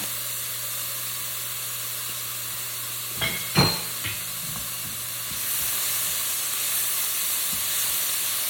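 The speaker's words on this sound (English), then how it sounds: "Let's just keep stirring and stirring and stirring." Orange chicken sauce with a touch of red wine vinegar hisses steadily in a pan, a continuous close sizzle with a few sharp utensil knocks and scrapes from stirring partway through, no voices.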